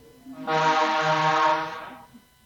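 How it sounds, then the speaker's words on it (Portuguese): A loud, sustained horn blast with a rich harmonic drone, lasting about one and a half seconds before fading, close by and alone. "A buzina bem ao lado aqui."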